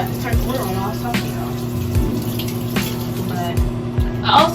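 Water runs steadily from a tap into a sink, a constant hiss beneath a low mechanical hum, with a few soft knocks and clatters along the way.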